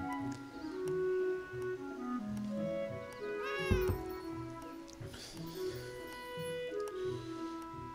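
A cat meows a few times in the video game Beyond Eyes, soft and mid-distance over a gentle musical backdrop with faint ticking.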